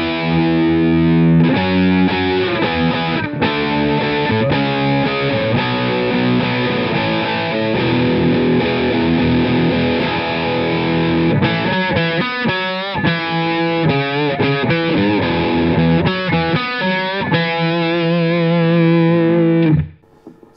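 Distorted electric guitar chords play through a Line 6 Amplifi 150 amp, a loud sustained rhythmic riff with chorus-like shimmer running for about twenty seconds before stopping abruptly.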